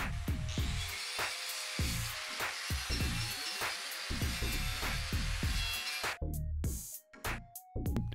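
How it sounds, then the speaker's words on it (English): A wire wheel grinds against a metal kids' bike frame to clear melted paint near a weld, making a loud, continuous whirring scrape broken by rhythmic knocks and ending in abrupt stops and a few short bursts. "Just clean that up really quick with a wire wheel."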